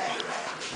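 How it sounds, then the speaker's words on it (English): A dog gives a brief, soft whimper, a short high yip over a light background hiss. "this is my dog"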